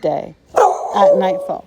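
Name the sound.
dogs barking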